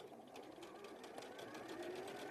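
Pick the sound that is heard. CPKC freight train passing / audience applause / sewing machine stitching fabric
sewing machine stitching fabric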